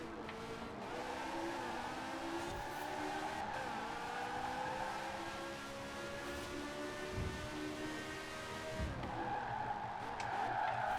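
A Peel P50 skids in a racing video game after the e-brake is pulled, giving a steady tire squeal over the engine drone that runs for several seconds, with no talk.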